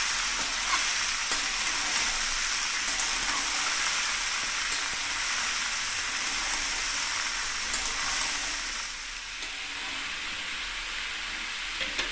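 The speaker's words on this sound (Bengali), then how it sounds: "রাঁধুনি ফোড়নটার সঙ্গে ভালো করে চাল কুমড়োটা ভেজে নিয়েছি।" Ash gourd pieces fry in hot oil with crushed radhuni spice for shukto, a steady, close sizzle with faint stirring scrapes, continuous and fairly even, quieting slightly toward the end.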